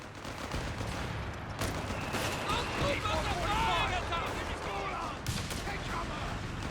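Company of Heroes 3 battle sounds: bursts of rifle and machine-gun fire with bazooka blasts crackle and thump steadily in the background, fairly faint under a commentator's talking.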